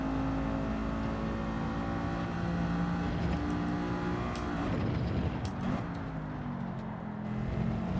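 Race cars in Gran Turismo 7 during a GTWS Manufacturers Cup round, engines droning steadily with pitch slides and a busier overlapping stretch midway, continuous and fairly loud with no speech.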